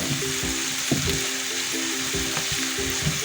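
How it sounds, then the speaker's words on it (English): Spices sauté in a hot pan for a vegan stuffed squash, giving a steady, fairly quiet sizzle with occasional stirring knocks and scrapes. "Also saute them for about a minute, maybe less than a minute."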